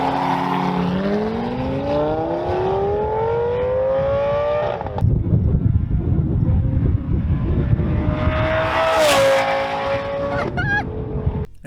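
A Gallardo sports car's exhaust revs loud and close. Engine pitch climbs steadily and then drops into a rough, crackling roar. The engine rises again before cutting off sharply at the end.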